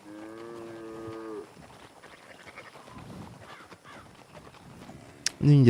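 Cattle low in Red Dead Redemption, a long loud moo at the start, then quieter farm chatter and scattered animal calls, ending in another strong bellow close by.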